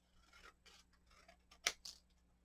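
Scissors snipping paper during a craft session, with soft rustling and a couple of brief sharp cuts, one louder near the middle, close and fairly quiet.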